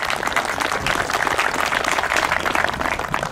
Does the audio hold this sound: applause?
yes